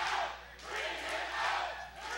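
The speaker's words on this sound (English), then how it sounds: "The crowd chanting to bring him out." A wrestling crowd chants at an event, a loud, rhythmic mass of voices swelling and falling in waves, heard from within the arena.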